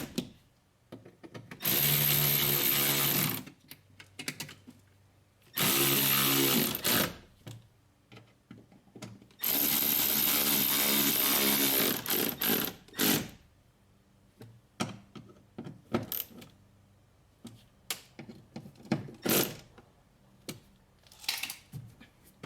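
A power tool tightens the window motor bolts inside the rear door of a VW Jetta during a window regulator replacement, sounding in several loud whirring bursts of a few seconds each, separated by quieter clicks and handling noises.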